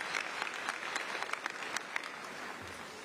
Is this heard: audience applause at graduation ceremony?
yes